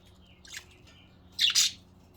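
A pet budgie chirps indoors, one short tweet followed after a pause by a louder double chirp, close and clear over a quiet background.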